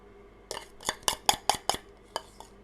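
Spoon scraping and clinking against a plate while serving roasted garlic mash, about eight sharp metallic taps in quick succession, close and clear in a quiet kitchen.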